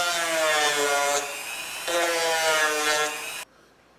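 High-pitched rotary power tool grinding a bevel on the edge of 1/2 inch PVC pipe, a steady whine in two bursts with a short drop between, close and loud, cutting off abruptly near the end.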